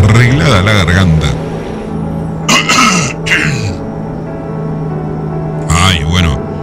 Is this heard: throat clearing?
yes